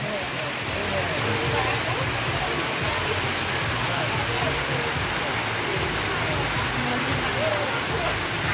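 Rain falls at night on a busy lakeside campsite at Lake Lut Tawar in Takengon, Aceh, a dense, steady hiss of close downpour that continues unbroken.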